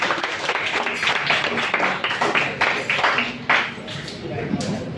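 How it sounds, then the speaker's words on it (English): Applause and clapping from a small audience at an evening talk on forests, loud and continuous throughout, with voices mixed in. "Give yourself a big round of applause."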